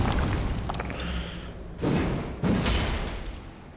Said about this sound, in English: 2 charge attacks does that combo, so you just get a nice AoE and then you get an explosion.